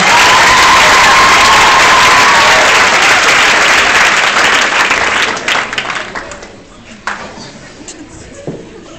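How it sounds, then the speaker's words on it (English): An audience at a hypnotist's show gives volunteers a loud, dense round of applause with some cheering, holding strong before tapering into scattered claps and fading to quiet with a few stray sounds. "Let's give it a round of applause, though."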